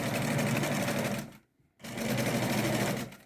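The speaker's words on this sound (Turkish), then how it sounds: "ucundan incecik bir dikiş geçiyorum" A sewing machine runs a thin line of stitching along the edge of a pocket, two loud, steady bursts of rapid stitching close up, separated by a brief pause.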